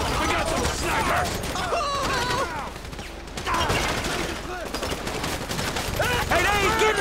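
Sniper gunfire in the video game GTA 5 cracks in repeated bursts of sharp shots over a busy firefight, with voices shouting over it throughout.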